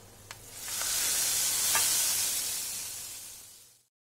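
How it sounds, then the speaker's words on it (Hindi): A loud, steady sizzle swells up as a hot oil tempering is poured into cooked lentils, hissing continuously for a few seconds before cutting off. "तड़का तैयार हो चुका है अब इसे हम दाल में डाल देंगे"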